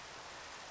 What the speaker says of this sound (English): Rain. I hate the rain.